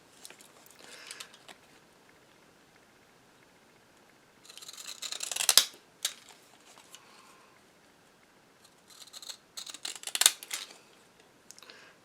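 Deckle-edge scissors slicing through mulberry paper in two short bursts of crisp snipping and rustling, close and fairly quiet, with near silence around them.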